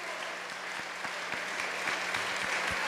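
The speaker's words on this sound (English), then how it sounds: "Can we give a round of applause to these incredible young people?" A church congregation applauds a group of young people during a service, giving a brief, even wash of many hands clapping at moderate volume.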